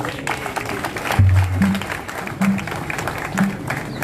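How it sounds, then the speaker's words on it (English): An audience applauds the new SG, Honorable Batuke Mende, at a party gathering, with clapping spread across an echoing venue and low hums and tones overlapping. "A round of applause for him."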